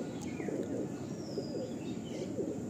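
Black pigeons in a loft give a soft, steady murmur of low cooing that blends into a continuous warm hum, with faint chirps above it.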